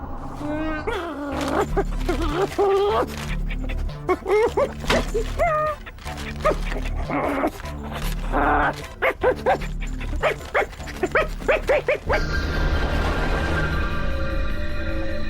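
A dog barks repeatedly in short, loud bursts, mixed with yips and whimpers, partly over people talking and a steady background hum.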